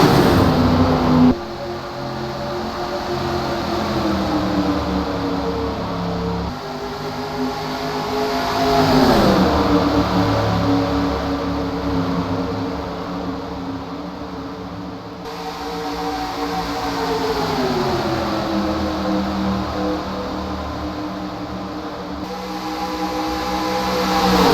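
Stock cars of the 2008 Cup Series racing at Talladega on a restart, a loud pack of engines roaring and revving, with pitch sweeps as cars pass and surge, continuous and close.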